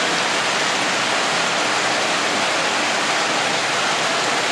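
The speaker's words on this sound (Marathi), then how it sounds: "पाऊस बघा सुंदर कसं केवढा पाऊस पडला आहे बघा." Heavy monsoon rain pours down steadily in a lush outdoor spot, a dense, even hiss of roaring downpour with no pauses and no voices.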